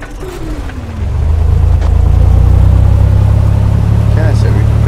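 Cessna 182 Skylane piston engine in the A2A flight simulator catching and settling into a steady, loud low drone after a brief starter whine, continuous and close.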